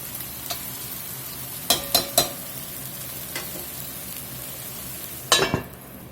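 Smoked ham hock and bones sizzling with onion, celery and bell pepper in a pot for Cajun jambalaya: a steady frying hiss punctuated by a few sharp clanks of a stirring utensil.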